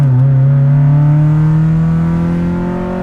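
A 1994 Honda Civic engine revs hard through a valved exhaust, a loud, steady, rising drone with strong harmonics held alone for about three seconds.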